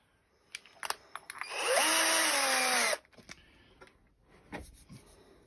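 A power drill bores into a part during work on a turbo E36, with a loud, steady whine for about a second and a half, framed by scattered knocks and handling clatter in a workshop.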